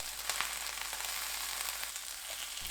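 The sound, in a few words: zucchini pan-frying in cooking oil over medium-low heat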